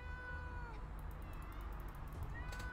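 Cat meows in the survival video game 60 Seconds, a few drawn-out cries over a steady low game hum, fairly close and alone without talk.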